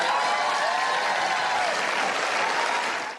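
A large crowd at an executive order signing on women's sports bursts into sustained applause, a dense, even wash of clapping that holds steady and then begins to fade at the end.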